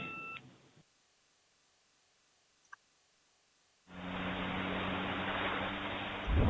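A pager in an anime episode gives a brief burst of electronic beeps at the start. Near silence follows, then a loud, steady broadband hiss takes over.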